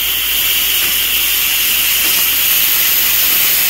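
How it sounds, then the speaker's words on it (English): An Instant Pot pressure cooker venting steam gives a loud, steady, close hiss that runs unbroken throughout with no talk. "Okay, so now you see how I release the steam."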